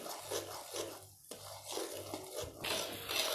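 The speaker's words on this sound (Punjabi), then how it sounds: "2-4 ਮਿੰਟ ਹੋਰ ਆਪਾਂ ਭੁੰਨਾਂਗੇ ਤਾਂ ਕਿ ਜਿਹੜੀ ਆਪਣੀ ਸੂਜੀ ਆ ਉਹ ਵਧੀਆ ਭੁੱਜ ਕੇ ਤਿਆਰ ਹੋ ਜਾਵੇ" Semolina (suji) being roasted in a pan on a gas stove for sweet suji prasad, a spoon scraping and stirring the grains in close, repeated rasping strokes with no one talking.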